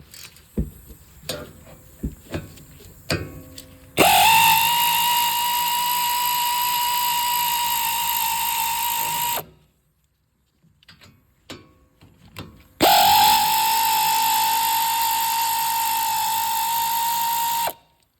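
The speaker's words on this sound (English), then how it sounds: "And I'll finish them off with the air ratchet." An air ratchet drives brake caliper bolts on a 2013-20 Ford Fusion during a brake job, with two long, loud, steady whirring runs separated by a brief pause, preceded and followed by scattered metallic clinks and clatter up close.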